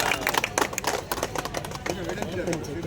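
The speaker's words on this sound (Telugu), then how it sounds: "గట్టిగా చప్పట్లు ఒకసారి" A crowd claps during a hill circumambulation at Kondagattu temple: scattered, uneven handclaps ring out beneath loud voices and chanting, with the clapping irregular rather than rhythmic.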